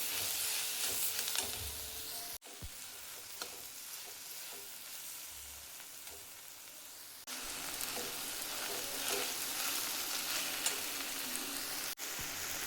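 Tomatoes roast in a hot pan for a spicy tomato, onion and green chilli thecha, giving a steady broadband sizzle with scraping stirs and a couple of brief breaks where the crackle cuts out before resuming.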